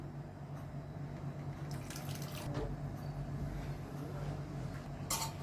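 Hot water splashes and trickles steadily into a pan of paneer curry, a continuous liquid wash with a few brighter splashes near the end.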